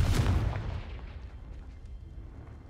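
Confringo fire spell exploding in the video game Hogwarts Legacy, a single booming blast at the start that fades into a rumbling tail.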